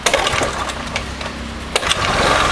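Honda Beat motor scooter with a carburetor, running with the idle set too high, giving a steady buzzing engine hum close by with a few clicks and knocks over it and no talk.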